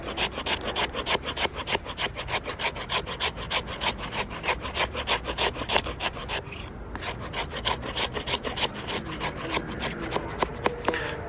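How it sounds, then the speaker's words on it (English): The back of a knife blade scrapes a piece of wood into thin shavings in rainy outdoor conditions, producing a rapid, steady series of close, rasping strokes. "I'm just using the back of my knife here, literally just to create these thin shavings"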